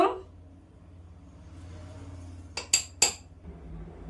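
A metal fork clinks against a bowl of batter while paneer snacks are coated, two sharp close taps near the end after a quiet stretch.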